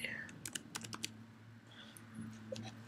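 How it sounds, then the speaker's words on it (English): Characters are typed on a computer keyboard in short, quiet bursts of clicking keystrokes with pauses between, under a low steady hum, close and faint. "Then here you just need to type in the characters."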